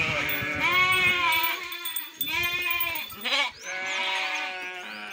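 Sheep on a farm give several long, wavering bleats, loud and close, with overlapping calls from more than one animal and brief quieter gaps between them.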